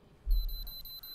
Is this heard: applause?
no